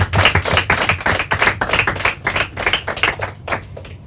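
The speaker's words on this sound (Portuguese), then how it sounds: "Palmas para eles." A small group claps at a quiz round, a brisk, irregular patter of hand claps close by that thins toward the end, with no talking over it.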